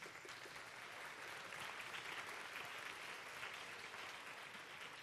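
Audience applause at a student challenge event, a dense, continuous clapping wash that holds steady throughout at moderate distance.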